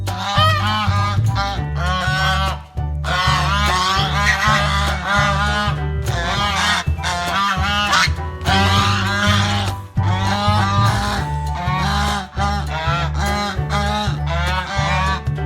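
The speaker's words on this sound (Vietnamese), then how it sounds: "Goose." Geese on a farm honk loudly and repeatedly in a dense, overlapping chorus of nasal calls that keeps going with only short pauses.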